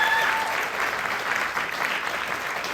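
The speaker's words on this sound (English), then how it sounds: "Can we give them all a round of applause?" An audience at a storytelling festival applauds the storytellers, with dense, even clapping that holds steady from start to finish and no voices over it.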